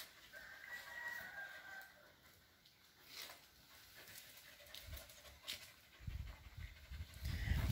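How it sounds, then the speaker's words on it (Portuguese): A small dog pants quietly and close by in a garden, with a rooster crowing and fowl clucking faintly in the background and a louder rustle near the end. "Olha só, outra cachorrinha dela tá aqui."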